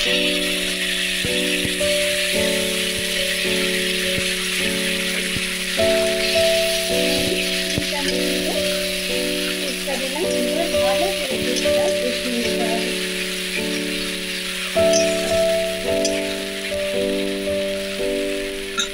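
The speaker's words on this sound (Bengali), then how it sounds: "আমার সুন্দরভাবে মশলাটা কষানো হচ্ছে।" A paste of onion, ginger and tomato sautés in a pan for rui posto, a steady crackling sizzle that runs throughout with a faint rattle of stirring, while a low hum continues underneath.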